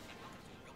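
A video-game dog yips and whimpers softly, faint and brief against low background noise, in a virtual reality game.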